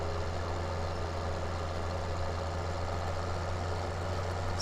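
A Farming Simulator 17 tractor engine runs at a steady, even drone throughout, a constant mid-low hum with no change in pace and no voices.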